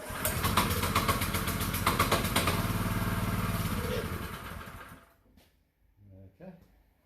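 A choked small engine runs loud and steady with a rough, buzzing idle for about five seconds, then cuts out, leaving only faint sputters and low knocks as it dies away.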